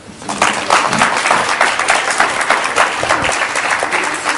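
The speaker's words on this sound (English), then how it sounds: "Let's give him a round of applause" A room of people applauds a patient after an interview, with loud, sustained and evenly dense clapping that swells in quickly and carries on unbroken without speech.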